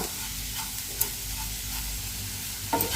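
An onion and chili mixture frying in a pan gives a close, constant hiss and sizzle with a couple of brief stirring scrapes, no voices over it.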